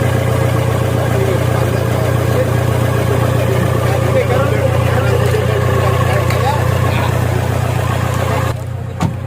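A Toyota Fortuner engine with a hard-starting fault runs at a loud, steady idle close by for about nine seconds, then cuts out abruptly near the end.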